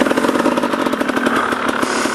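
Motorcycle engine on a steep rocky uphill trail, a loud, close, continuous buzzing drone with fast pulsing revs and no speech.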